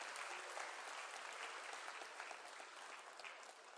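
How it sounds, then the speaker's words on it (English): Audience applauding at a Gaelic Fèis concert in Paisley, a full, even roar of clapping from a sizable crowd that slowly tapers near the end. "Give yourselves a round of applause."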